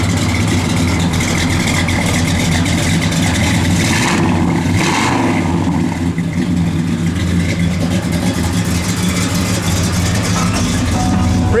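A 1972 Chevrolet Monte Carlo with a lumpy aggressive cam runs loud and close, a deep steady idle with a brief rev that rises and falls midway before settling back to its rough rumble.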